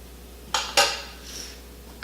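A spoon strikes a bowl in a few short clinks while sesame oil and fish sauce are stirred together, two close taps in quick succession, then a quiet pause and another tap.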